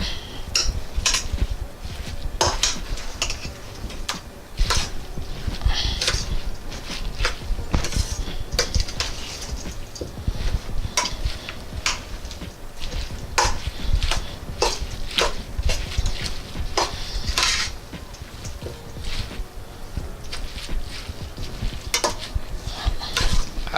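A spoon works mayonnaise into coleslaw in a bowl, giving repeated scraping and clinking strokes in an uneven rhythm that carries on steadily and close by, with no talking.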